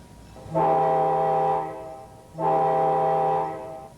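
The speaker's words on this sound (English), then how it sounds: "Bill Flanagan was on board the P&LE train when it pulled out of Station Square" Two long, loud blasts of a P&LE commuter train horn as it pulls out of Station Square, each lasting about a second, separated by a short pause over a low rumbling background.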